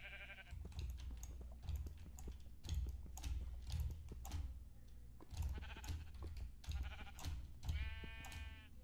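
Sheep in the game Minecraft bleat repeatedly among clicky block-placing and tapping sounds, with a clear, loud bleat near the end.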